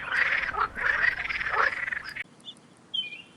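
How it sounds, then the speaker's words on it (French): A chorus of frogs croaks together in a dense, loud, rapid trilling for about two seconds, then cuts off, leaving a few brief faint calls. "n'ayant jamais vu autant de grenouilles chanter ensemble"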